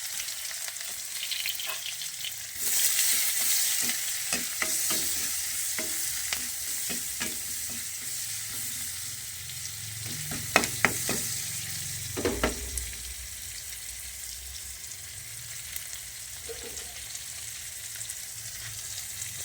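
Onion and garlic sauté in a pan with a low continuous sizzle, punctuated by scraping stirs and utensil clinks, some louder knocks in the middle before settling into quieter frying.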